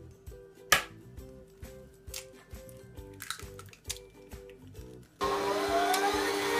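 An electric mixer creams butter and caster sugar in a bowl, starting after soft clinks and knocks with a sudden steady loud whirring hum that runs on to the end.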